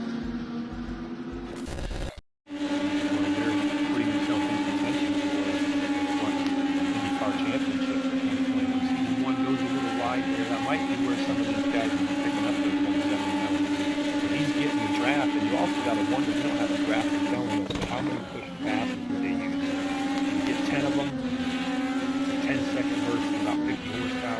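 IndyCar race cars in a sim race at Willow Springs, their engines droning steadily and continuously under commentary, with a brief dropout near the start.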